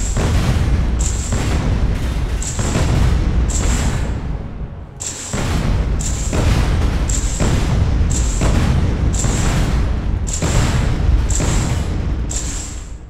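Rocket weapon firing repeatedly at a ship in the Space Engineers video game, a loud, near continuous barrage of booming blasts, each burst lasting about a second with a brief hiss, all without talk.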